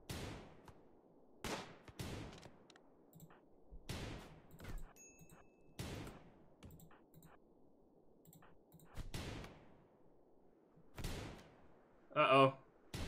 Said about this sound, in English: Oh, they're both firing now.